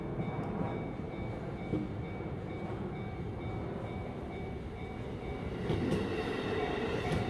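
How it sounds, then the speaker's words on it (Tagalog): A train rumbles steadily past a level crossing in Tokyo, heard up close and loud throughout, with a faint wheel squeal rising briefly near the end. "Yung hinihintay mong dumaan muna ang train bago ka tumawid."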